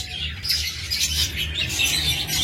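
A pair of parblue lovebirds for sale squawks in quick, harsh, overlapping bursts, loud and close, with a faint low hum underneath and no voices.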